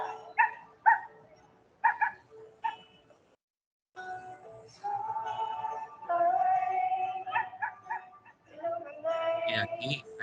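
A small dog barking, with sharp close yips in quick bursts, then a brief quiet gap followed by longer whining, barking and whimpering, loud and near.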